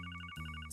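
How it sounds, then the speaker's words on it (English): A telephone rings in the video game Trails from Zero as a rapid run of about eight even electronic chirps over a low, steady musical drone, with no speech. "The phone is ringing."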